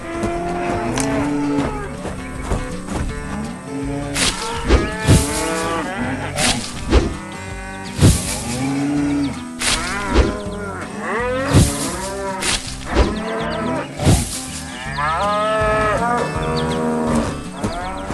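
Water buffalo moo repeatedly around a green truck among other buffalo, the long harmonic calls layered over a busy, loud mix with engine-like and music-like sounds, no talking.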